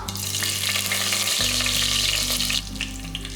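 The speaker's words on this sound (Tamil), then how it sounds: "இப்போ பாருங்கள் மிளகு ஜீரகம் கடுகு எல்லாமே பொறிஞ்சிருச்சு" Mustard, cumin and pepper seeds crackle and splutter in hot oil in a pan, a steady close, loud sizzle with a dense spray of tiny pops, alongside a constant low hum.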